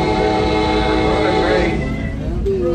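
A train rolls steadily toward a crossing with a loud, continuous rumble and a tonal horn-like hum that fades and shifts partway through, heard close.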